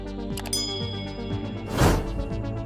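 A bright bell-like notification chime rings out, then a soft whoosh swells near the end, both clean and close like an added sound effect.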